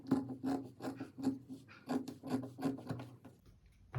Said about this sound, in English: I'm just going to trim out the neckline for the front